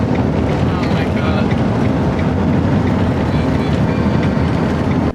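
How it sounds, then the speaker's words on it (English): A 50-metre road train thunders past on a long, straight Australian highway as another road train overtakes it, a steady, loud broadband roar of engine and wind noise that holds for the whole stretch. "That's a 50-metre long road train we're passing with another road train."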